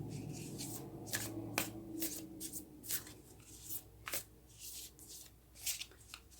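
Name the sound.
shuffling Moonology oracle cards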